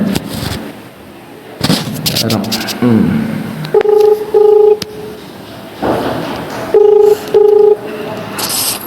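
Two short bursts of touch-tone beeps, several quick tones each, ring out clearly between sharp thumps and bits of nearby talking.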